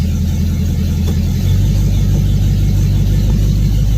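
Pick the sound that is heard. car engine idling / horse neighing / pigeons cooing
car engine idling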